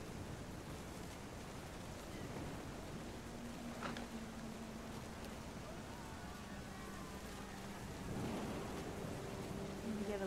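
In the video game What Remains of Edith Finch, steady rain hiss fills the scene with low rumbling thunder rolling through, a brief crack near the middle, and a louder surge of storm toward the end.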